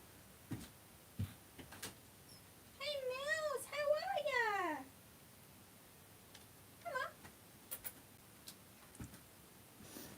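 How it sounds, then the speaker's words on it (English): A pet cat meows several times in a long, wavering, insistent run, then gives a shorter cry a few seconds later, sounding fairly close against quiet room background with small ticks and knocks. "I think my cat wants to come in"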